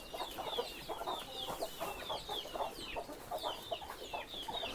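Country chickens on a village poultry farm kept alongside sheep cluck and chatter continuously nearby, a busy overlapping flock of short calls with no talking.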